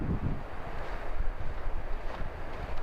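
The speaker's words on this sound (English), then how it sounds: "you could really hear the waves and the sounds of Lake of the Woods here" Waves wash on Lake of the Woods beside a lakeside campground at Zippel Bay State Park, Minnesota, a continuous rough surging mixed with gusting wind buffeting the microphone.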